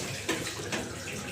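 Water is poured over a body during a ritual washing of the dead, giving a soft, faint splashing stream with two brief surges of pouring.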